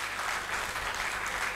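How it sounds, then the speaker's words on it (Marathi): A short burst of loud, dense audience clapping fills the hall at a lifetime achievement award function for the Friends Eleven Football Club's 75th anniversary year. "मित्रांनो टाळ्यांचा आवाज कमी पडू नका"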